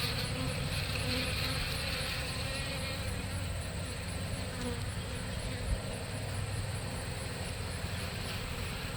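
Honeybees swarm around a caged queen in a hive, their dense, steady buzzing droning close and continuous throughout, with no voices.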